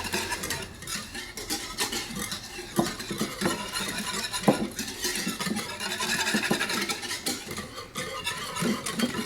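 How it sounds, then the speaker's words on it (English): Instant coffee crystals being stirred into milk, a continuous close scraping and swishing with occasional clinks of a utensil against the container, no talking. "you add 1/4 cup of the Nescafe instant coffee crystals. And then you just sort of mix it together."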